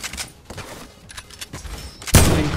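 Automatic gunfire from a weapon in Fortnite, a loud burst of rapid shots erupting near the end after a stretch of quieter game sounds.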